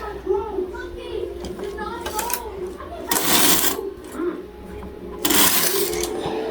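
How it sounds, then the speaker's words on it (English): A knitting machine carriage is pushed across a row while knitting a diamond short-row pattern, giving two loud rushing sweeps over clicking and light background noise, with a brief voice early on. "Now make sure your machine is in hold again. Okay, and then we knit our first row."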